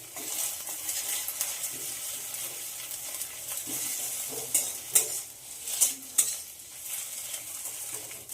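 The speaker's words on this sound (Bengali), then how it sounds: "এই ডিমটার ভুজিয়া বানিয়ে নেব।" Egg bhujia sizzling in a pan while being stirred, close and continuous frying crackle with repeated scraping strokes and a few sharp metallic clinks of the utensil against the pan.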